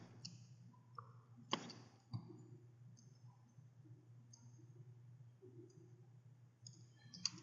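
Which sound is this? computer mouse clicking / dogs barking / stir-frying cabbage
computer mouse clicking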